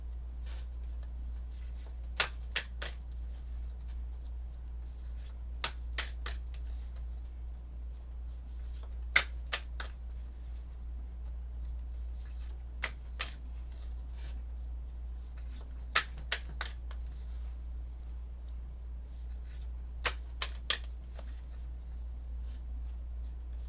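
Moonology oracle cards shuffled by hand during a live tarot and astrology reading, soft papery riffles and snaps coming in short bursts every few seconds over a steady low background hum.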